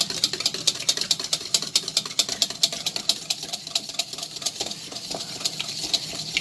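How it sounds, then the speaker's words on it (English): Wet pancake ingredients and eggs being whisked in a bowl, a fast steady clatter of rapid metallic whisk strokes that repeats continuously and close by, with no talking. "So now we can just switch this over to a wet ingredient whisk and go to town."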